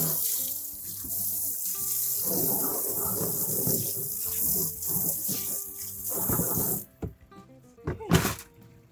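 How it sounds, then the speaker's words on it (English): Tumbled peach moonstone rinsed under a running tap in a sink, a steady close rush of water with occasional clunks of stones, stopping abruptly near the end before a brief final splash. "Give this another rinse and be right back."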